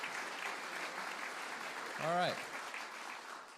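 A studio audience at a live music show finishes a round of normal applause, the clapping thinning out while someone speaks briefly over it.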